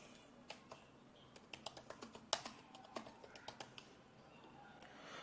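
Fingers type a short phrase on a computer keyboard, a quick irregular run of close, crisp key taps lasting a few seconds.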